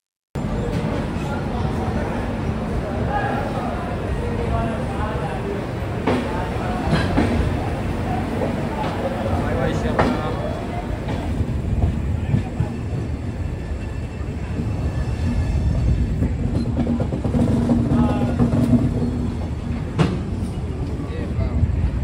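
A Darjeeling Mail train passing Sealdah station at night, with steady loud rumble and rolling rail noise throughout and occasional clatter over the track, with people talking faintly in the background.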